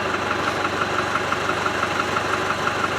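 A Land Rover Defender 110 with a weak, underpowered engine drones steadily from inside the cab while driving, a close, even mid-range hum and rumble with no talk over it.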